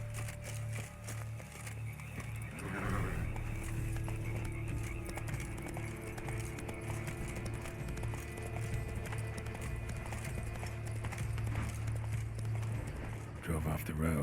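Horse hooves from The Witcher 3: Wild Hunt clop steadily on a road as a wagon trail is followed, layered with game music and ambient sound throughout.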